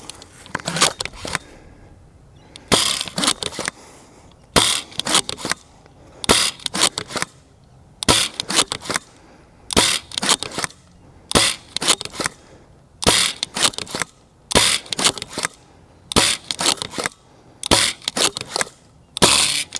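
A Worker saber Nerf blaster fires foam darts in a regular series of about ten sharp, loud mechanical shots, each a brief burst with clicks from priming, separated by short pauses.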